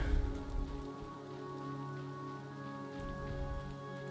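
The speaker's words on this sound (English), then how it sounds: "It's raining." Steady rainfall in a fantasy video game, a continuous even patter over a low hum and faint sustained music tones, with a heavier thump at the start and no talking.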